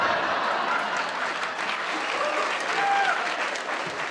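Crowd applause at a live talk, a steady, dense, moderately loud roar of clapping with faint voices mixed in, lasting the full few seconds.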